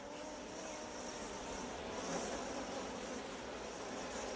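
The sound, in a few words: honey bees buzzing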